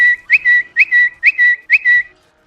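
A person whistles an imitation of the Twitter bird notification chirp, a quick series of five bright, close two-note phrases with short gaps, ending in silence.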